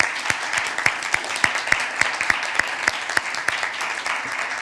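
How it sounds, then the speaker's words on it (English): An audience at an inter-secondary school debate applauds the speakers, a modest crowd of claps with a few sharp close hand claps standing out over a softer wash, steady throughout. "we all deserve to give them another round of applause"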